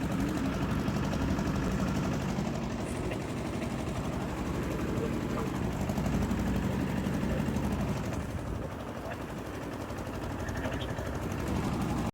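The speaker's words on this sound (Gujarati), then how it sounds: "આપણું જો ટ્રેક્ટર હાલવા માંડ્યું છે." A farm tractor engine runs steadily as the tractor starts moving, pulling a harrow in a field, with a continuous low rumble throughout and a voice talking over it.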